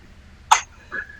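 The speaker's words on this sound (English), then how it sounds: "Well, let me clear my throat." A man on a metal radio show gives one short, sharp throat clearing followed by a softer second rasp, close to the microphone in a quiet room.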